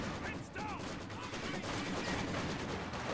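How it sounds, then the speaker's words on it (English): Maxim machine gun firing in a World War I video game, a rapid stream of sharp bursts over battlefield noise and distant explosions, sustained throughout. "And now Maxim firing away in the center, suppressing these troops here."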